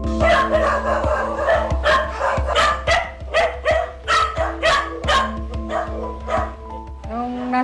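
Many dogs at a home with about 35 of them bark in a loud, overlapping chorus of repeated woofs and yips, some near and some farther off, with occasional whimpers mixed in.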